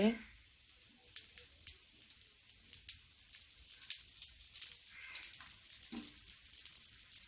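Breadfruit pieces fry in oil, giving a faint, steady crackling sizzle with scattered sharp pops and a few louder spits.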